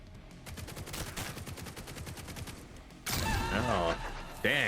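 Rapid automatic gunfire from a roguelike video game, a steady stream of loud shots under busy game effects, shifting to brighter, whooshing effects near the end.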